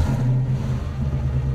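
A Hennessey Venom GT engine, a tuned Lotus-based car, turning over into a deep, loud, steady rumble close by, with no voices.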